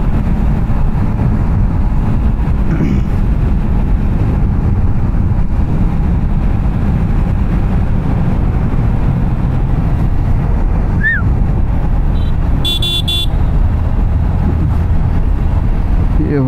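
A Yamaha MT-15 motorcycle rides along a highway, its engine drone almost buried under loud, constant wind rush buffeting the microphone, with a short high beep near the end.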